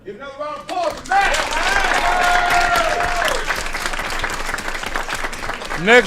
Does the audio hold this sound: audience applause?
yes